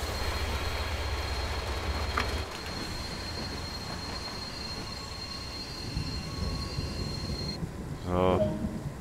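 A steel freight train brakes in Train Sim World 2 on the Ruhr-Sieg Nord line, with a steady rail rumble, a brief squeal near the start and a rising mechanical whine near the end.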